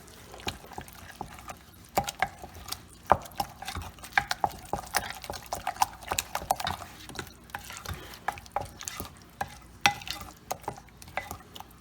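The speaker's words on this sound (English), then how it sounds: "I'm just going to give this a mix." Black peppercorns and seasoning being stirred together for collard green lasagna roll-ups, with a steady run of close scraping and tapping stirring sounds and some faint sizzle-like crackle throughout, without any talk.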